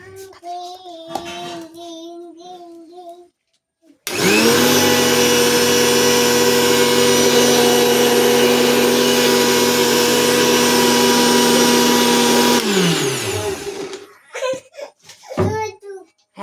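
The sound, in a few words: blender grinding a mixture with rose water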